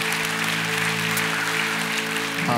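A church congregation applauds during a baptism service, a continuous patter of clapping from a room of people, moderately distant, with a steady hum running underneath.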